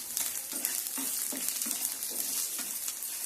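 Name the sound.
lentils and dried red chillies frying in a pan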